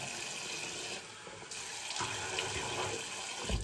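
Tap water running at a bathroom sink while someone wets their face, a steady close stream with brief splashes and shifts as hands move under the flow, and no talk.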